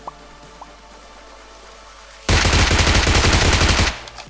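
A loud burst of rapid SMG fire in a battle royale video game, about a second and a half of fast, evenly spaced shots close up, following quieter ambience with a couple of faint clicks.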